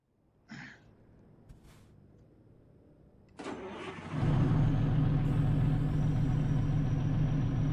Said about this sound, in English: When it starts up, you can then hear the turbo spool up after it lights